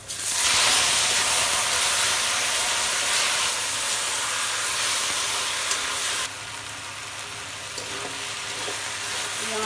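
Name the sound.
leafy greens frying with onion and chili in a pan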